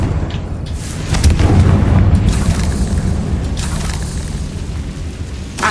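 Confringo spell detonating in a Harry Potter video game: a loud, deep booming blast that swells about a second in and rumbles on for several seconds, with crackling debris layered over the low roar.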